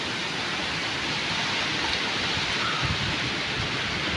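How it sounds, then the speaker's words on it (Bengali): A heavy rainstorm in Satkhira, Bangladesh, a dense, loud, unbroken roar of pouring rain with a faint low rumble underneath, no voices. "প্রচুর ঝড় বৃষ্টি হচ্ছে।"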